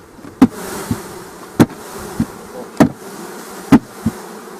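A honeybee swarm settled near an apiary, heard as a steady insect buzz under sharp, evenly spaced knocks on a wooden hive box, about six loud thuds over a few seconds.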